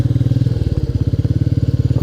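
A Royal Enfield Meteor 350 motorcycle pulls away in first gear, its engine giving a loud, close, steady run of rapid thumping pulses.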